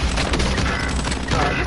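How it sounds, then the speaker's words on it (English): Rapid gunfire bursts and booms from the Warzone video game, a dense volley of shots that continues throughout under voices talking. "Taking shots."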